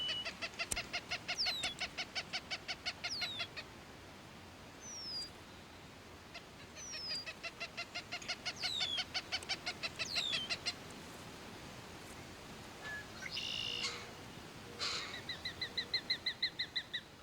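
A goshawk and her chick call at the nest, repeated rapid bursts of shrill, chattering notes with short sweeping whistles, coming in clusters separated by brief pauses, fairly close and clear over a light background hiss.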